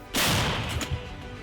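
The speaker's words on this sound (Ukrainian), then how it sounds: "Гармата постріл!" A single heavy blast from a Msta-B howitzer booms out, a sharp loud report followed by a rolling rumble that slowly decays.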